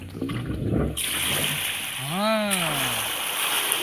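Water pumped by a motor pours into an irrigation channel, a steady broad rush that starts about a second in and continues under a man's brief spoken words.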